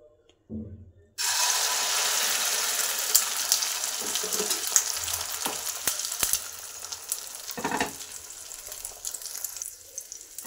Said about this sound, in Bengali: তেলটা গরম হয়ে গেছে, এবারে আস্তে করে ভেজে নেব।